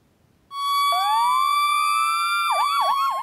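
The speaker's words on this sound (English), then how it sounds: "When you first hear these sirens and see the lights, they may just seem like any other." A fire rescue truck siren starts abruptly after a brief quiet, rising into a loud sustained wail, then switching to rapid yelping cycles near the end.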